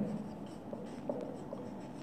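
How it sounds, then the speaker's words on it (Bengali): Marker or chalk writing on a classroom board during a chemistry lesson: soft scratchy strokes and taps in a steady rhythm, close and fairly quiet, with no talk over them. "আচ্ছা ভালো করে লিখি"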